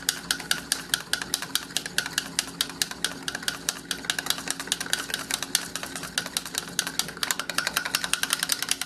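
A small baby whisk beats oil and vinegar into a vinaigrette in a bowl. It makes a rapid, steady stream of light metallic ticks, close and continuous, with nothing else over it.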